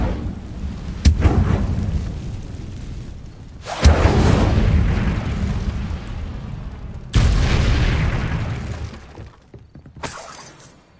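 A fire spell bursts in a video game with sudden crackling blasts, three or four loud whooshing eruptions each fading into a rushing roar, separated by brief quieter gaps.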